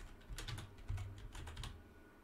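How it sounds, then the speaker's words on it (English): Typing a game name on a computer keyboard makes a quick, close run of light clicking keystrokes, some bunched together, with a brief pause partway through. "Now how you would do this is by specifically typing in the name."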